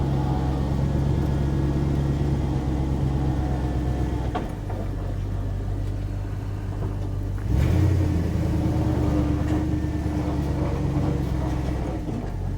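A restored Dodge W200 truck, its engine running rich and rough on a first drive, gives a steady low rumble from the cab, the pitch rising and falling as it revs and shifts.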